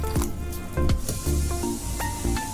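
Half a tumbler of water is poured into potato rava idli batter, making close, wet splashing and sloshing with a few stronger pulses.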